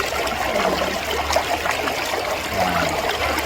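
Water flows and trickles at a riverside campsite during rain, a close, continuous babbling rush with small splashy bursts throughout.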